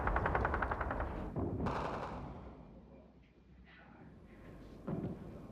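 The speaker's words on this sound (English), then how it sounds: "Tanks and heavy guns of the Serbian-dominated Federal Army pouring in fire from their positions in the surrounding mountains." Heavy gunfire and shelling from tanks and heavy guns in the mountains during the siege of Dubrovnik, sharp bursts and rumbling booms echoing at a distance, with a voice talking over parts of it.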